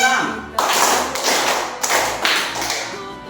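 Fourth-grade pupils clap together in a classroom following a teacher's cue, a voice heard briefly at the start, then three or four loud, slightly ragged bursts of group clapping.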